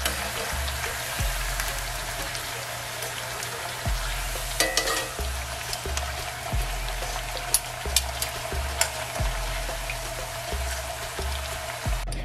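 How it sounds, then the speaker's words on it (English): Breadfruit slices fry in oil in a pan for vegan ackee breadfruit tacos. A steady sizzle and crackle is broken by occasional sharp pops and a low rhythmic pulsing beneath it. "we're just gonna make these fry for about a minute and a half on each side"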